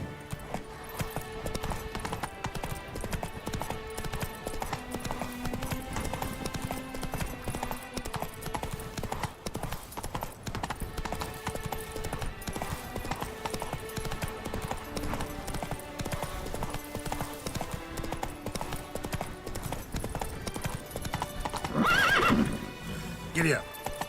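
Roach, a horse in The Witcher 3, gallops with steady clip-clop hoofbeats throughout, under game music and effects, with a loud neigh near the end and voices talking intermittently.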